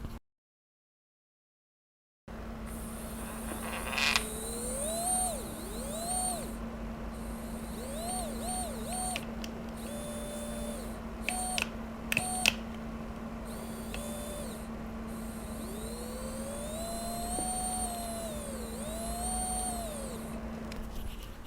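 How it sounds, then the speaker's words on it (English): A Furitek Momentum mini motor for an RC model runs with a quiet, steady electric whine and a low hum, its pitch gliding up and down as the speed changes, with small clicks and taps between. "the motor is really quiet and really smooth"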